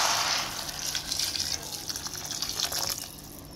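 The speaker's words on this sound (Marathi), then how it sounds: "मी 2 वाटी तांदूळ घेतले होते, त्यासाठी मी 4 वाटी गरम पाणी टाकणार आहे।" Hot water pours steadily from a vessel onto sautéed rice and vegetables in a pot for veg pulao, about four cups for two of rice, a continuous close gush and splash with no talking.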